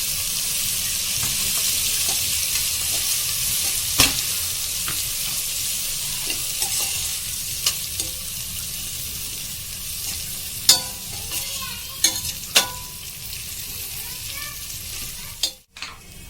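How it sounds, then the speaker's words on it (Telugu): Green chilies, mint and coriander sizzle and fry in a pan for mutton curry, a steady hiss with scattered clinks and scrapes of a spoon stirring throughout, close and with no talking. "పుదీనా, కొత్తిమీర వేసుకొని పచ్చివాసన పోయే వరకు కొంచెం కలుపుకోవాలి"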